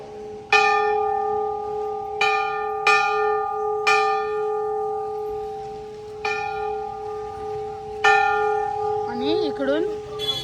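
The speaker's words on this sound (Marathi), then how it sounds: "बेल वाजवून जायचे" Temple bell at Dhari Devi temple in Uttarakhand, struck about seven times in an irregular rhythm, each ring loud and close with a long sustained hum, and a brief warbling tone at the end.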